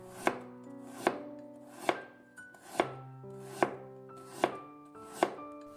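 A knife slicing a peeled carrot into thin pieces on a cutting board: about eight crisp, evenly spaced chops, close and loud, with no voices.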